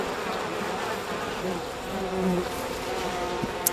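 Bees from the video game We Happy Few buzz in a thick, constant hum that fills the scene, with a few louder passes drifting close and a small click near the end.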